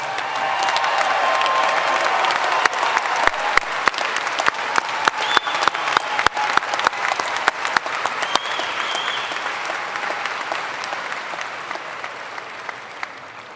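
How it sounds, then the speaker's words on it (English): An audience at a Kirkwood High School graduation ceremony applauds in a large hall. The clapping is sustained and dense, with sharp individual claps standing out near the microphone, and it slowly tapers toward the end. "let's give these people a round of applause"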